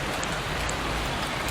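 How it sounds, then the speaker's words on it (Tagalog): Heavy rain during the rainy season in the Philippines, a loud, dense, unbroken hiss of falling water with no voices. "Kasi tag-ulan na ngayon."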